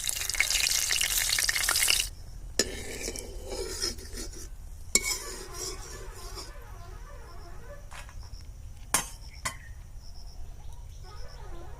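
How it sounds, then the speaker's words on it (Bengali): Dried red chillies hit hot mustard oil in a kadai, giving a loud two-second burst of sizzling. It then drops to a quiet, sparse crackle with a few sharp clinks. "প্রথমে আমি শুকনো লঙ্কাগুলো ভেজে নেব।"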